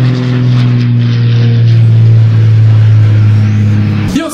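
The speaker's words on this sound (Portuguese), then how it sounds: "passa um avião." A loud, steady low drone of an airplane passing overhead fills the whole stretch, close and unbroken, with a sudden cut near the end.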